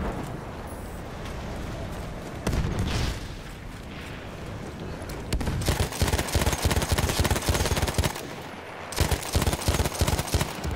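Battlefield 1 video game gunfire: sustained bursts of rapid machine-gun fire and single shots with heavy booming explosions, loud and close, growing denser in the second half.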